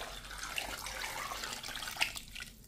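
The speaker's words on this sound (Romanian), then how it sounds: "Dacă o să mai trebuiască apă, mai punem, mai completăm cu apă" Tap water runs steadily into a cooking pot while stuffed peppers are being made, a soft continuous splashing stream heard close by and alone.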